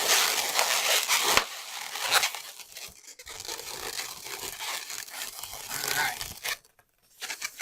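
A long latex twisting balloon squeaks and rubs up close while the ears of a balloon dog are twisted and reshaped, giving continuous crinkling, stretching scrapes with brief pauses.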